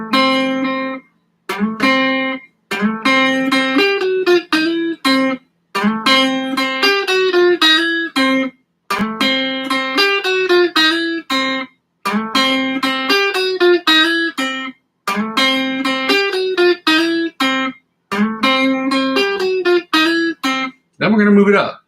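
An electric guitar run through effects plays the same bright, ringing lick about eight times, with short silent gaps between repeats, moving up and down the fretboard at a clear, loud level.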